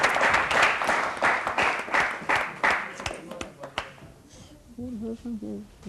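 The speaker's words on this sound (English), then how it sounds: "I think we should give a big round of applause to Absha." Studio audience applause for a contestant on a science quiz show, a burst of brisk clapping that fades after about four seconds, then someone speaks.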